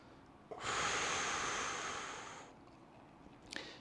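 One long, forceful exhale through the nose and mouth during a mobility exercise, rushing and airy for about two seconds before tapering off, followed by a brief soft intake of breath.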